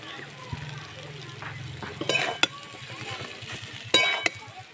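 Mashed boiled potato with spices frying in a pan, soft sizzle with a few metal utensil clinks and scrapes, close, with a voice speaking over part of it.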